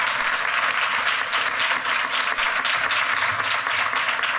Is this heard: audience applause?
yes